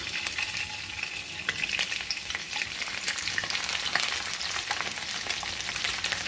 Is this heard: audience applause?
no